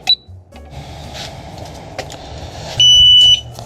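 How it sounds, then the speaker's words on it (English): Kryptonite alarmed disc brake lock on a motorcycle giving a single clear high-pitched electronic beep as it arms, standing out over faint workshop background noise. "So this is an alarmed disc brake lock. Kryptonite."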